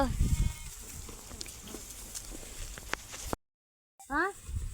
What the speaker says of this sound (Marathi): किती भारी मेंढे आहे बाई मस्त